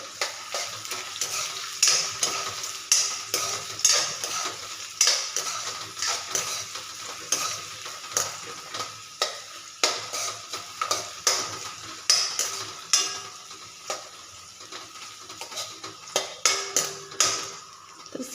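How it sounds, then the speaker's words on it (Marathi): Onion sautéing in a pan for Maharashtrian tindora rice, a soft continuous sizzle punctuated by regular scraping and tapping spatula strokes against the pan, close and unhurried. "त्याच्यानंतर तुम्ही कांदा व्यवस्थित परतून घ्यायचा व्यवस्थित कांदा परतून घेणार आहोत"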